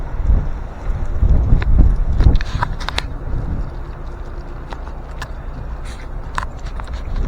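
Strong wind buffets the microphone during a road cycling training ride near Cambrils, Spain, a loud low roar that is heaviest in the first seconds, then steadier, with faint traffic or clattering beneath it.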